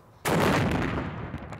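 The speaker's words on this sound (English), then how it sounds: "The Ramadan cannon." Ramadan cannon fired to mark iftar in the Arab world: a single loud sudden boom that rolls on into a long, sustained rumbling echo.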